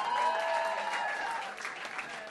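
Audience applause for a band, a short burst of many people clapping together, fairly soft and even, tapering slightly toward the end.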